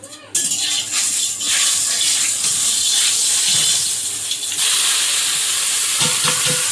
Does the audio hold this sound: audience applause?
no